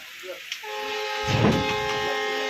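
A Ratnagiri–Diva passenger train sits at Kadavai railway station on the Konkan Railway in heavy rain, with a rumbling swell of rail noise and steady tonal hums close by. A voice speaks faintly at the start.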